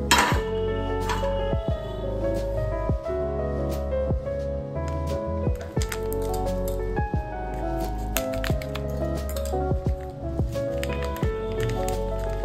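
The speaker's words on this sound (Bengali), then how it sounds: "এখানে ঢেলে নেওয়ার পর আমি সিজনিং মিক্স মশলাটা এবং তেলটা আলাদা আলাদা করে মেশাবো" Seasoning mix and oil are stirred into Nissin Geki instant noodles in a bowl, producing wet squishing and clinking chopstick or spoon sounds in a steady rhythm, close up, with background music playing throughout.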